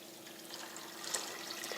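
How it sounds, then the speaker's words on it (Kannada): Water poured over broken wheat to soak it for North Karnataka godhi huggi, a faint, steady trickle and splash with a slight swell near the end. "ಈಗ ಇದಕ್ಕೆ ನಾನು ನೀರು ಹಾಕಿ ನೆನೆಹಾಕಿಡ್ತೀನಿ ನೋಡ್ರಿ"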